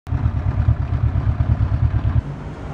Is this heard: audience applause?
no